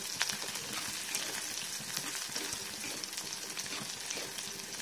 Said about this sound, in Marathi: आता हे सगळं छान फ्राय होऊ द्यायचं. फ्राय होत असताना सतत ढवळत राहायचं